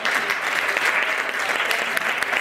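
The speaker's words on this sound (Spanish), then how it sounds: "Un aplauso para ella." Audience at a charity cheque presentation applauding, a dense, loud, continuous round of clapping from many hands throughout, with no talking over it.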